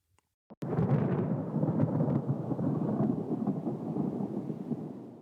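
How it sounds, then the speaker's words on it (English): A deep rolling thunder rumble, added as an effect in a studio-produced song, starts after a brief quiet and sustains loudly, with a crackling rain-like texture throughout. "I actually added some thunder effects into the song to make it feel more like lightning"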